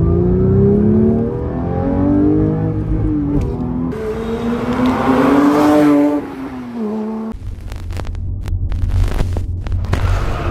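Porsche 911 GT3 accelerating hard in second gear in sport mode, the engine note climbing steadily in pitch and loudness as it revs, easing briefly before an upshift, then settling into a rougher, rumbling drone.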